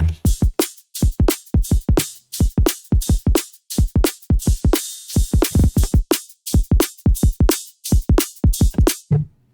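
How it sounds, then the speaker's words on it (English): A rapid, steady drum pattern run through a noise-driven vocoder, with hissy, noise-textured hits, each strike crisp and bright, looping evenly with no voices. "I'm running them through a vocoder. That vocoder is just using noise."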